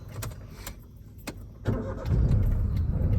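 A car engine catches with a few sharp clicks, then settles into a louder low rumbling vibration as the clutch is slowly released, close and without talk.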